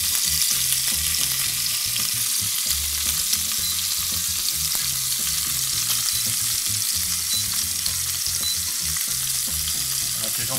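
Aromatics roast in a hot pan alongside an Ibaïona pork loin, giving a steady, even sizzle and crackle with occasional soft stirring, close and unbroken throughout.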